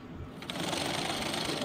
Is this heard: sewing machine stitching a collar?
yes